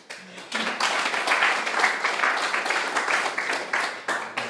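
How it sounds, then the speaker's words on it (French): A church congregation at a Sunday service breaks into sustained applause, many hands clapping together close by, with a voice briefly heard at the start. "À nouveau applaudir à Sonia parce qu'elle fait toujours ses consacrations pour les annonces."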